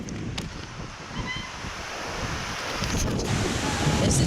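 Strong wind blowing during a forest walk, roaring steadily across the microphone with a dull, surf-like rumble that grows slightly louder toward the end and no clear talk over it.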